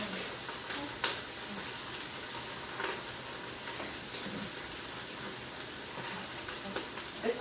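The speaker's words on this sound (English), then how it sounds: "I hear them cabbage frying" Steady crackling sizzle of wet cabbage frying in a pan, with scattered louder pops and spits throughout.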